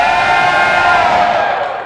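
A theater audience at an outdoor open-stage script reading shouts and whoops in a loud burst to vote for A Midsummer Night's Dream, with the cheer tapering off at the end.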